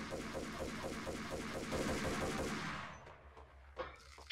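Rapid bursts of gunfire in Max Payne rattle continuously, then stop, leaving a couple of faint clicks and a short thud.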